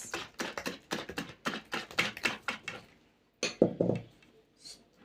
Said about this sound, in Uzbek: Aralashtirishda davom etamiz.